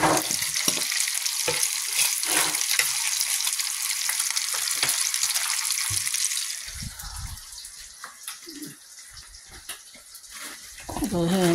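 Potatoes frying in a pan for a home breakfast, a steady broadband sizzle with scraping and stirring that thins out partway through, with a few louder clatters near the end.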